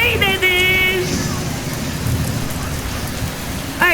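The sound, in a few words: rain and thunderstorm sound effect in a school play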